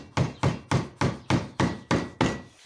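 A hammer taps repeatedly on glued mirror pieces, about eight evenly spaced firm knocks, close and clear with no talking.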